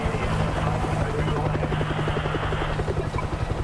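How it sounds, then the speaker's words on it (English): Military helicopter in the video game World War Z: Aftermath, Moscow level, with loud steady rotor chopping throbbing close by and not fading over a few seconds. "Is that a helicopter?"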